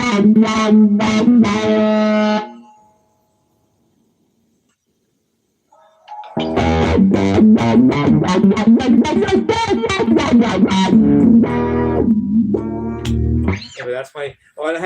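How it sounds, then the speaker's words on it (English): An electric guitar plays through an amp's distortion channel: a short phrase, a few seconds of silence, then a longer run of fast, buzzy picked notes. "I have a foot switch that goes back from clean to distortion channel on my amp"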